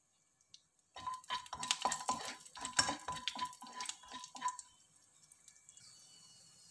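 Cashews and raisins roast in ghee in a pan while a spatula stirs them, giving a few seconds of busy scraping and metallic clinks. The stirring then stops, leaving only a faint, quiet background.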